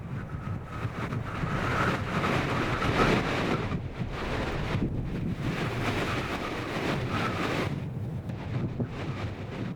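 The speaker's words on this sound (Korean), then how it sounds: "바람도 심하네요." Strong wind at Aoraki Mount Cook in New Zealand buffets the microphone in heavy, surging gusts that rise and fall for the whole stretch, with no voices.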